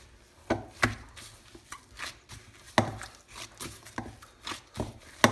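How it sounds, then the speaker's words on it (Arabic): Dough for a falafel pizza is kneaded by hand, giving irregular close soft slaps and thuds as it is pressed and turned on the surface. "هسه نبدي نعجن بيدنا"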